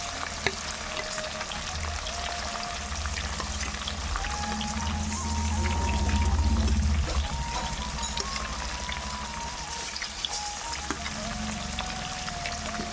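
Fish heads shallow-frying in oil in a pan for a rural-style dish, with a steady crackling sizzle that swells a little midway and runs throughout, with no talk.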